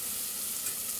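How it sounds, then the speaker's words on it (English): A quarter cup of butter melting in a large stock pot over medium-high heat, giving a steady, close hissing sizzle for a brief moment with no voices. "I'm gonna drop in a 1/4 cup of butter. Melt this down."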